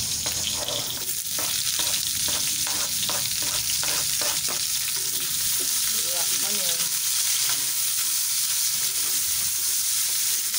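Onions fry in a hot pan in a home kitchen, giving a loud, steady sizzle with a run of rhythmic stirring scrapes and taps early on.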